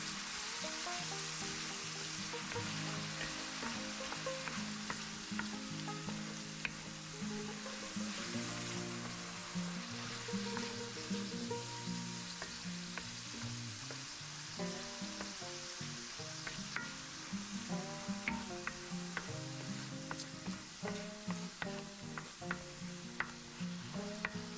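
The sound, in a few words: mushrooms frying in a skillet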